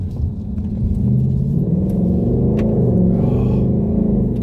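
Deep rumbling V8 of a 2020 Ford Mustang GT Premium in sport mode, steady and loud under light throttle, a low burbling drone that swells slightly as the car picks up speed from inside the cabin.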